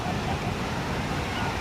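Ocean surf at the sea shore at Puri during Deva Snana Purnima, a steady broadband wash of waves rolling in close by, continuous and fairly loud with wind mixed in and no clear breaks.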